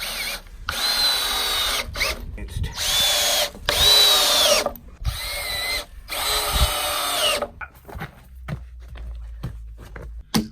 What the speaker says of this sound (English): take these screws and put a pattern in here just to make it extra rigid